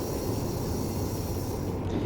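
A train in the Train Simulator Classic game, on the Taurus Mountains route, rumbles steadily as it brakes, a low continuous rolling drone with a faint high whine above it.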